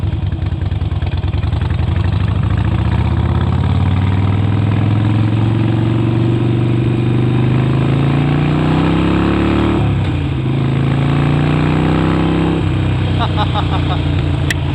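A Harley-Davidson Forty-Eight motorcycle idles with a loud, continuous low throbbing rumble that rises slightly in pitch partway through, close to the microphone, with no voice audible over the engine.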